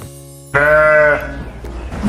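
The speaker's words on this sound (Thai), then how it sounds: "เด็กๆไปฟังเสียงแกะกันเลยนะคะ" A single sheep gives one loud, clear bleat lasting about half a second, close to the listener, followed by quieter background noise.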